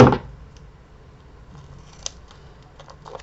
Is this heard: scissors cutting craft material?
yes